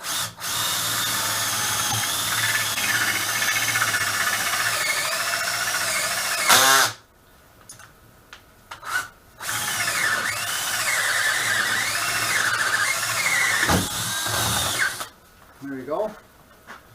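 A drill bores an inch-and-an-eighth chickadee entrance hole into a log birdhouse, a loud steady whining grind in two long bursts with a short pause and brief squeals between them.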